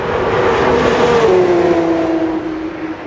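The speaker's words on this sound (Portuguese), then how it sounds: "ver os carros passando em alta velocidade pela reta principal" Race cars scream past at high speed on the main straight of the Red Bull Ring, a loud sustained engine roar whose pitch slides downward as they pass and move away.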